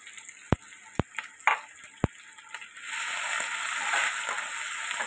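Crushed garlic and green chili go into a hot pan, with a few sharp clicks and taps first, then a loud, steady sizzle of frying that carries on to the end.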